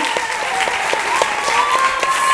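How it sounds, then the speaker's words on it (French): A studio audience on a French TV show applauds a singer's number-one album, close dense clapping with a few tonal voices or whistles mixed in. "Applaudissements, s'il vous plaît."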